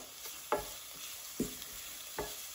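Onions sweating in a pan over the heat, with a soft, faint background sizzle broken by three brief scraping stirs spaced evenly apart, and no talk.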